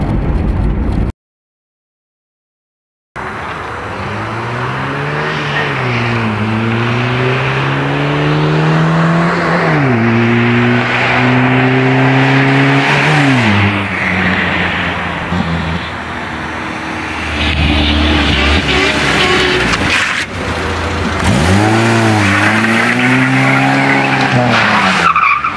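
Renault R11 with a Weber 32 DRT carburettor revving hard, the engine note repeatedly climbing through gears, loud and close after a short silent gap, building and passing strongly near the end.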